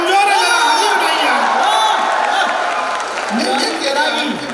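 Crowd at a comic poetry gathering (kavi sammelan) during Tapti Mahotsav in Multai, loud and near, with sustained cheering, whoops and shouts rolling through all clip long and no clear speech on top.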